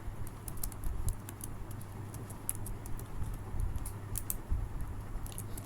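Rapid clicking of a computer keyboard while coding a Scratch color guessing game, with close, steady taps in uneven bursts and no talk.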